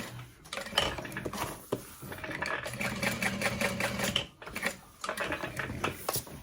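A walking foot sewing machine stitches through layered backpack fabric, its needle hammering in steady bursts with brief pauses between runs, close and fairly loud.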